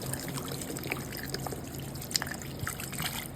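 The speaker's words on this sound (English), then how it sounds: "Now I'm going to add 12 ounces of water to it." Water poured into a pan for stewed tuna after seasoning is sauteed in oil, a soft steady trickle with faint dribbles, quiet and close, no talk.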